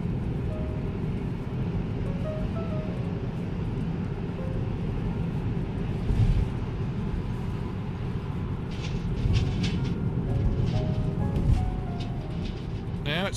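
From inside a Tesla Model 3 on the road, a steady rumble of road noise swells twice as a big carrier truck rolls past close by, then settles back.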